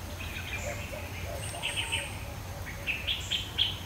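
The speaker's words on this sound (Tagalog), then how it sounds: "Yan, may humuhuni ng mga kamoks." Small birds chirping near a cage trap outdoors, scattered high tweets and short calls over a low steady background hum, moderately close.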